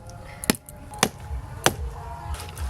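Three sharp, loud chopping blows land at a steady rhythm as a heavy cleaver cuts through a large 5 kg catla fish near the tail, each impact a crisp thwack on a board with faint background noise between.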